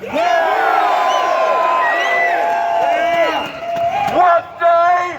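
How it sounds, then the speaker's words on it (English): A large crowd at an Australia Day march roars and cheers steadily, with whoops and shouting voices layered throughout, loud and close, swelling briefly near the end. "Let me hear you cheer if you are proud to be an Australian."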